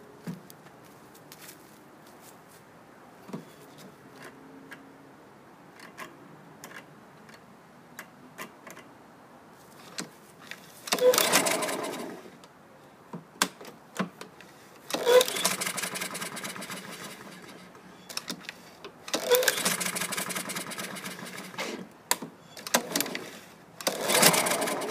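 Repeated pulls on the starter cord of a lawn mower engine with no compression, each pull a short rattling whir in bursts separated by quiet gaps, turning over easily without firing.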